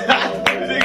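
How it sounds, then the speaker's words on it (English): Three sharp hand claps in quick succession, close and loud, over a steady background hum. "Did you just clap?"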